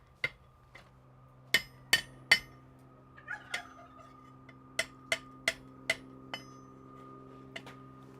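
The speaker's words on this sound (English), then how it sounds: "Not so much forging as I am just simple bending." Hand hammer striking hot metal to bend it in a smithy, sharp ringing blows in irregular clusters over a quiet background hum.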